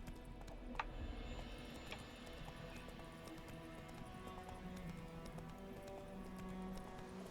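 Rhythmic clip-clop of a horse trotting steadily in the game Witcher 3: Wild Hunt, with faint ticking game sounds and a low background hum.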